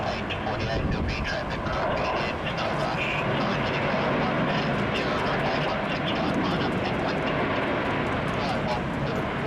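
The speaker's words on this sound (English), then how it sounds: "She's Qantas arriving from Brisbane there on runway 16 right." A Qantas airliner arriving from Brisbane lands on runway 16 right at Sydney Airport in heavy rain, a steady broad roar heard from a distance with rain hiss throughout and a voice talking over it.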